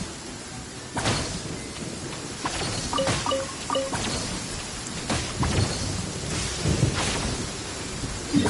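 Thunder from lightning in the video game Genshin Impact rumbles and cracks repeatedly over steady heavy rain.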